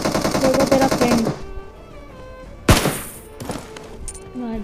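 Gunfire in a mobile shooting video game: a rapid automatic burst for over a second, then a lull with faint background tones, followed by a single hard shot and a few scattered lighter hits.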